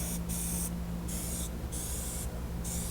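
Plasti Dip aerosol sprayed in thick coats onto the outside of a wheel rim: four steady hissing bursts separated by short pauses, loud and close against a constant low background hum.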